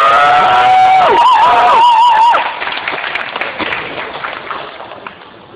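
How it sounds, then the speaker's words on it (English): Applause from a piano recital audience, mixed with cheering and whistles at first, then thinning into scattered clapping that fades away. "So ladies and gentlemen, a round of applause."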